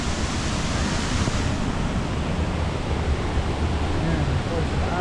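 Waterfall on a hillside trail, a dense steady roar of falling water that fills the scene without pause.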